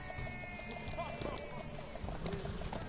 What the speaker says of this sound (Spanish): las carreras de caballos